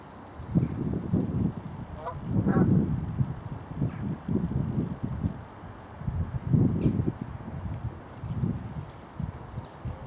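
Canada geese honking at a pond, a flock of rough, nasal calls rising in several clusters, moderately distant, over steady low wind rumble outdoors.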